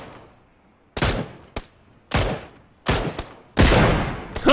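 Bursts of gunfire from shooting at enemies in PUBG, five or six loud sharp volleys in quick irregular succession, some single cracks and some sustained rattling bursts, close and alone with no talk.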